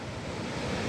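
Jog Falls waterfall, a continuous broadband rush of falling water heard steadily for a brief moment, fairly faint and distant with a windy wash.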